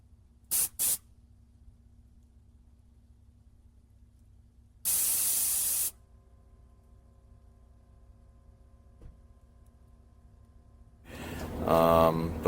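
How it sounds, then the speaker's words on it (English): A car's onboard air compressors switch on, heard as a steady hiss that rises near the end after two brief sharp clicks and a loud burst of spray, all faint and indoors. "Now you hear the compressors, they just flipped on."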